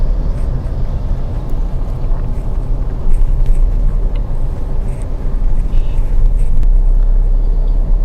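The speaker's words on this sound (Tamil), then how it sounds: "இங்கே ரைட் சைடில் வெஹிக்கிள் வராரு." Steady low road rumble from inside a car during a beginner driving lesson, with traffic passing on the right side of the road; a continuous loud drone with no talk.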